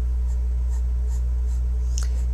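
A freshly sharpened colored pencil scratches across paper in light, rhythmic strokes, faint against a steady low electrical hum.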